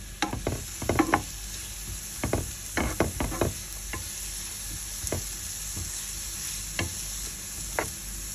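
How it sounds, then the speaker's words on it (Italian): Chopped onion sautés in a pan, a soft steady sizzle broken by sharp knocks and scrapes of a utensil against the pan, some in quick clusters, with no voices. "Faccio rosolare la cipolla, dopodiché inserisco i pomodori."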